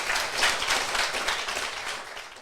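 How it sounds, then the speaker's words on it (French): Audience applause at a Paris Marathon finishers' show, a dense, steady wash of many hands clapping that fades slightly toward the end, with no voices over it. "je pense qu'on peut l'applaudir"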